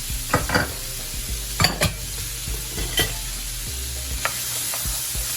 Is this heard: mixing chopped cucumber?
yes